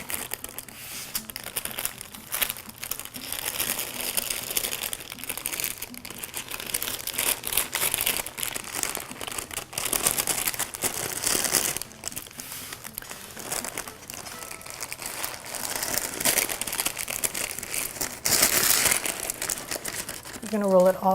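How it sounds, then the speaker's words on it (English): Parchment paper crinkling as an egg souffle roulade is rolled up in it: constant close crackling and rustling throughout, with a person talking over it. "you're going to take the parchment from the sides and start rolling it"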